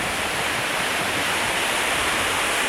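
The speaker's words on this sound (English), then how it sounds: "beautiful, beautiful set of falls that you can see right from the road" A waterfall on the Isle of Skye gives a close, steady, broadband rush of falling water that stays constant throughout, with no voices.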